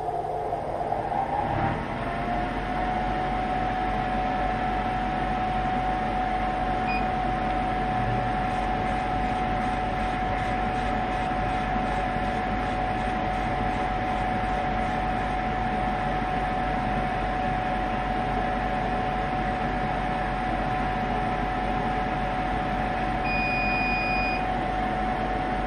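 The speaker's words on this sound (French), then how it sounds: "Alors je vais mettre en route la ventilation, ça va être assez bruyant" An extraction fan runs on an 80 W CNC 1290 laser cutter. It starts up about two seconds in, then holds a loud, steady broadband roar with a constant tonal hum and a faint repeating high beep partway through.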